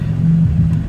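A car engine idles nearby with a low, steady hum and slight wavering in pitch, no voices present.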